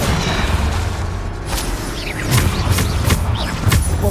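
Bombarda spell explosions from Hogwarts Legacy, deep booming blasts repeated several times over a loud, continuous combat din.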